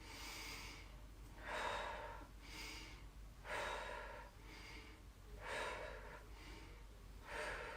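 A person breathes in and out audibly during a seated chair yoga exercise, with about seven quick, close breaths in a steady rhythm that alternates between inhales and exhales, and no talk.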